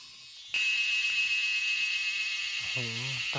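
A loud, shrill, continuous buzz of cicadas in deep forest in the evening starts abruptly and drones on steadily; a voice speaks briefly near the end.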